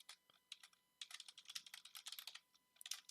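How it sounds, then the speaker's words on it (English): Quiet, close keystrokes patter on a computer keyboard in uneven bursts, with short pauses between runs of rapid clicks. "I'm just going to type description."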